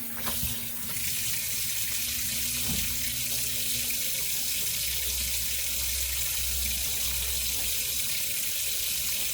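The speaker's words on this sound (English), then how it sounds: "So whilst this one has a little rinse under the water" A tie-dyed scrunchie rinsed under a running tap, with a steady, even hiss of water pouring into a sink that continues unbroken throughout, close and alone after a brief knock near the start.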